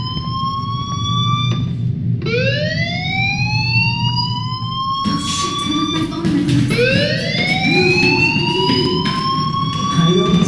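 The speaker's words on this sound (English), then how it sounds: "that fire alarm? That means you should be outside." A fire alarm in the Life Is Strange video game wails loudly in repeated rising sweeps, one after another, while voices talk over it.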